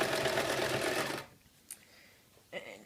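A sewing machine stitching a circle skirt with a sewing spider attachment, running in a fast, dense mechanical whir for about a second before stopping, followed by quiet, with two brief clicks afterward.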